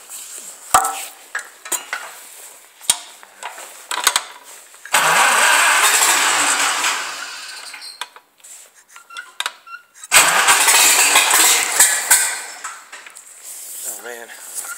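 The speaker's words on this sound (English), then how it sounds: "I'm pretty sure she'll start right up" An old carbureted car engine is cold-started: two loud cranking and turnover bursts of a few seconds each, separated by a quieter pause with scattered clicks and knocks, close to the microphone.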